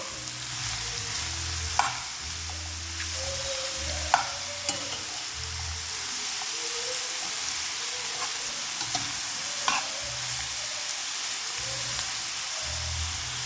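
Ridge gourd pieces stirred into frying onions in a pan, a steady close sizzle with occasional spoon scrapes and knocks against the pan, no voices.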